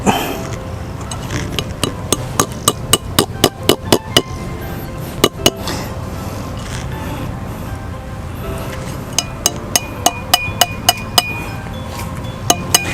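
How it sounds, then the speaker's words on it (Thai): Metal needle sleeve being driven into a tree trunk with a hammer for root and stem rot treatment: sharp, clinking strikes in quick bursts of several blows, a pause, then another run of taps, close and fairly loud. "หลังจากที่เรา ตอกปอกเข็มเสร็จแล้ว"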